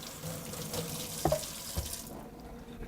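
A sink tap runs steadily while jalapeno peppers are rinsed under it, a constant close splashing water rush with a couple of small knocks against the sink.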